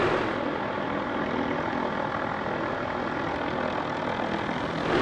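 A helicopter hovers near a mountain cliff, its rotor and engine droning steadily at a distance, a constant washing whir with no break.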